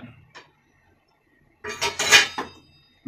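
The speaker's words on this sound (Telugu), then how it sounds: "దోశలు కూడా పెనం పెట్టేద్దాం." A dosa pan is set down on a stove while an oil-free pure-veg breakfast is being cooked: a faint knock, then a short burst of close metallic clatter and scraping, with no talk.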